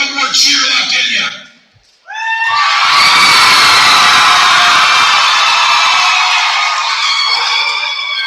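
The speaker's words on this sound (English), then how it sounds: "I'm betting we have one more cheer left in you." Students cheer at a school awards assembly: a short burst of shouting, a brief lull, then a loud, sustained roar of young voices screaming and whooping together.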